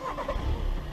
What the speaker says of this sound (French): Mise en marche moteur.